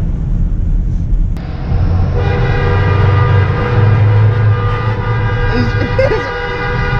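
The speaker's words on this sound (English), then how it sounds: "Did you hear other people? They started honking." Car horns from other drivers blare in sustained tones over the low rumble of a moving vehicle's engine, with a couple of long honks heard close by.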